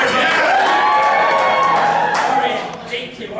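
A live improv comedy audience gives a loud, short burst of cheering and whoops that swells at once and fades over a few seconds.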